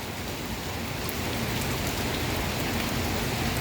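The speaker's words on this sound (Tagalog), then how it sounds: "palakas ng palakas ng mga ulan guys" Heavy rain pours in Malate, Manila, a dense, steady hiss of drops on surfaces, close and loud, growing slightly heavier, with no talking.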